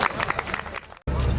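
An audience at an Urdu poetry gathering applauds a guest poet, a dense patter of clapping that cuts out abruptly and then returns as a low rumbling crowd noise.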